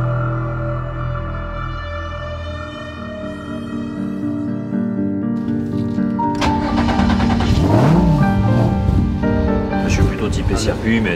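A Renault Twin'Run mid-engined race car on its first run on a circuit, its engine humming steadily and then revving loudly up and down through several sharp rises near the end, with some background voices.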